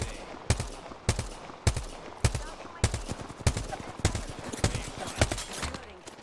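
Video game gunfire rings out as evenly spaced sharp single shots, about ten loud cracks in a steady rhythm over faint background game noise.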